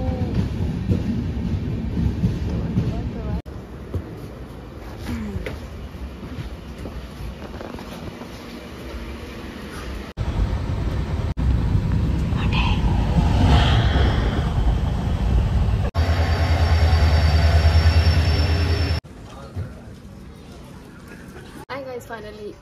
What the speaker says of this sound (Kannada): ಗೈಸ್ ನಮ್ಮ ಟ್ರೈನ್ ಬಂತು